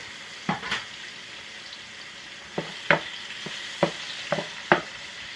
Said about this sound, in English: I'm going to fry these tomatoes. And throw in the garlic also.